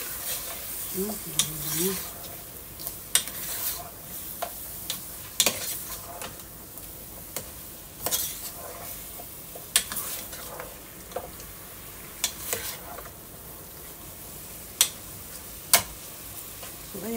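Chicken tinola being stirred in a pot, with repeated scraping and clinking strokes of a spoon against the metal over a low simmering hiss, plus a brief spoken word near the start.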